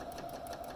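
Sewing machine stitching down the side of a drawstring bag, a quiet rapid mechanical whir with even, pulsing stitch beats over a brief moment.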